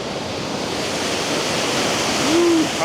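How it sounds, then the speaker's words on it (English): Gardner Falls, a waterfall, roars steadily and close, a dense, even wash of noise with a faint brief tonal hoot near the end. "this is the main falls, Gardner Falls."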